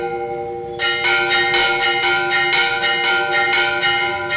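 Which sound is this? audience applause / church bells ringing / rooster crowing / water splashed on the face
church bells ringing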